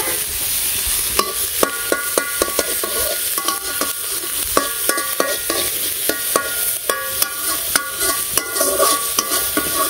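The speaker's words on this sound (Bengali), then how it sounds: "তো এই তো পেঁয়াজগুলো লাল লাল করে ভেজে নিলাম" Onions frying in a little oil in a wok for a village fish curry, with steady crackling sizzle and repeated sharp metallic scrapes and clinks from stirring at a brisk, irregular rhythm, close up.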